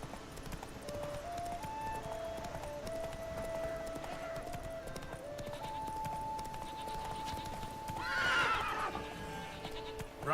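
A horse gallops with rapid hoofbeats under game music in The Witcher 3, then gives a loud, shrill neigh near the end.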